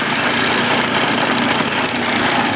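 A homemade sanding table's motor runs in a garage, a loud steady whirring drone holding at constant level throughout.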